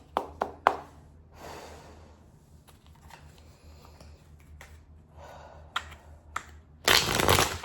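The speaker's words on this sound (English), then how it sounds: "We are going to shuffle up our cards and say our prayer" Tarot cards being shuffled by hand, a few sharp riffles and soft shuffling bursts scattered across quiet pauses, ending in a louder, denser rush of card noise.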